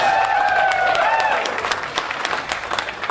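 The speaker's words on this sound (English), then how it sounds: "Let's give him a big round of applause." A game-show audience at a Colgate quiz claps for a winner, dense applause that fades gradually as sparse individual claps linger, with a sustained musical tone over the first half.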